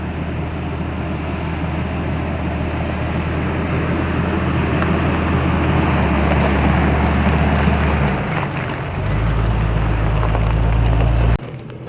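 Vehicle bombing fast down a dusty dirt two-track trail on an old stagecoach route, a loud steady engine drone with heavy wind and rattle that shifts pitch near the end before cutting off abruptly.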